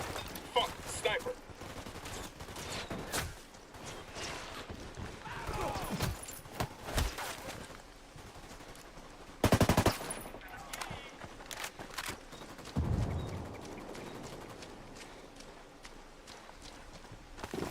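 Sniper and automatic gunfire in the game Ghost Recon Wildlands, scattered sharp shots and bursts with one loud close crack near the middle, mixed with game ambience, footsteps and intermittent voices.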